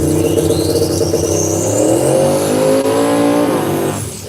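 Big tire drag race car engine revving hard at close range, a loud sustained roar that climbs in pitch before cutting off abruptly.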